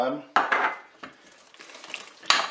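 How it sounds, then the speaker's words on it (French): Melted butter being added to cake batter in a kitchen, heard as clinks and scrapes of utensils against a bowl, a couple of sharp knocks, and soft stirring noise between them, close and without talk. "On va rajouter notre beurre fondu, 50 g."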